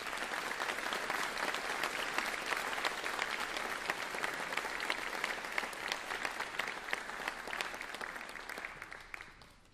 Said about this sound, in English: So can you join me in giving a round of applause to these students?